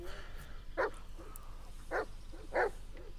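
Three short dog barks from the Blair Witch video game, spaced about a second apart, moderately loud over a low ambient game drone.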